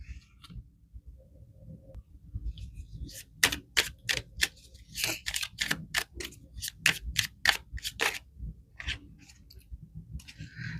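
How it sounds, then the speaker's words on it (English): Tarot cards are shuffled and pulled from the deck in a quick run of crisp, snapping riffles and flicks, up close, with soft handling noise and faint background murmur between bursts. "let's pull just a couple more cards to cap this off."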